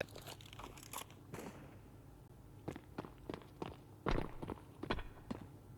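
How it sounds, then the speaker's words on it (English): Footsteps in a Counter-Strike match at an ESL Challenger League game, heading toward the lower bomb site: a series of quiet, irregular steps and scuffs with no talk over them. "Heard footsteps down to the lower bomb site"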